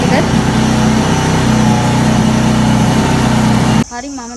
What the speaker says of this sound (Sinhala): මම දැන් පැදලා බලන්නම් බයික් එක.